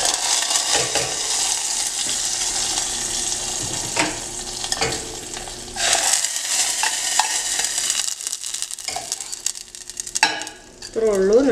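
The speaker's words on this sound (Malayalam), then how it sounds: "നമുക്കിനി ജസ്റ്റ് ഇതിലേക്കൊന്ന് കടുക് വറുത്ത് ഒഴിക്കാം" Fried mustard seed tempering with cut chillies poured into Kerala beetroot kichadi, a buttermilk gravy, giving a steady hissing sizzle with stirring clinks, a brief louder burst near the end, no talk.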